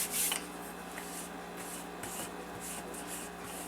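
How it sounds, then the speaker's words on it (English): A floured rolling pin rolls out dumpling dough on a counter, giving soft, faint rubbing and swishing strokes repeated in an uneven rhythm, close and quiet with no talk. "I'm going to flour my rolling pin, and we're going to roll this out to like 1/8 of an inch"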